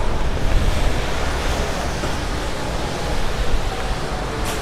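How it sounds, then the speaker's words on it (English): Strong winter storm wind roars steadily across a New York City street at night, a dense continuous rush with broad gusting swells and heavy microphone buffeting, loud and unbroken with no talk. "Ooh, the wind. Really strong wind."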